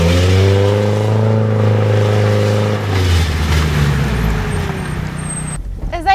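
Drift car engine revving hard as the clutch is let out, a loud sustained roar that drops in pitch and surges again, ending in a brief burst of noise.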